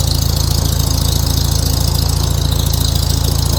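A Farmall H tractor with a new muffler runs steadily while being put into first gear, its deep, even engine rumble close and loud throughout with no pauses.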